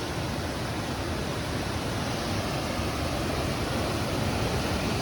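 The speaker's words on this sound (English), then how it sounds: "Jack's River Falls is not just like one waterfall, it's a long series of many." Jack's River Falls in the Cohutta Wilderness, a long series of cascades rushing in a steady, dense, even roar with no pauses, close and loud.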